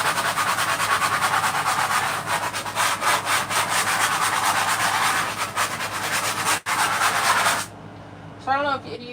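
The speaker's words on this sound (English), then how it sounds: "It's gonna need the electric sander for sure." An electric sander works over a wooden floor inside a converted bus, a loud steady broadband whir running without a break for about seven seconds, then cutting off, with a few faint voice-like sounds after it stops.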